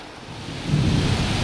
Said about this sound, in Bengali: প্রচণ্ড হারে বৃষ্টি পড়ছে দেখছো